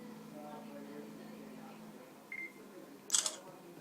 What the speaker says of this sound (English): I'll just take a photo here now.